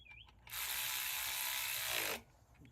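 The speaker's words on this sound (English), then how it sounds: "So let's tighten that bolt." A bolt is tightened on a coil spring compressor from Orion Motor Tech, giving one close, loud, rapid ratcheting whir that lasts under two seconds and stops abruptly, with quiet before and after.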